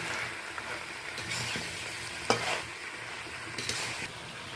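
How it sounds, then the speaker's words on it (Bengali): Fried hilsa fish heads are stirred into pumpkin and ridge gourd in a pan, with a continuous sizzle and intermittent spatula scrapes and knocks, close and alone. "এবার সবজির সাথে ভালোভাবে মাথাগুলো মিশিয়ে নেব"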